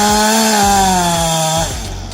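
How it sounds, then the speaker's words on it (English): A small chainsaw cuts through wood, its loud motor note sliding slowly lower under load before the cut eases and the sound drops away near the end. "With just a small chainsaw, you might wonder what it could possibly achieve."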